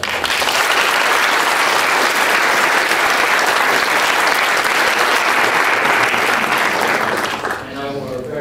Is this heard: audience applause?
yes